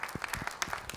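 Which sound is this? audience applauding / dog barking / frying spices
audience applauding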